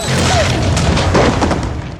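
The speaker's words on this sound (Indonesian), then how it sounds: "namun bom sudah keburu meledak dan mereka pun terlempar" A bomb explodes in a film scene, a loud booming blast with crashing debris that fills the short stretch and rolls off at the end, with a faint voice underneath.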